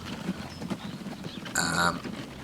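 A horse-drawn cart in the Transport Fever 2 video game clip-clops with light, steady hoof beats, followed by a brief, brighter burst near the end over a low game-ambience bed.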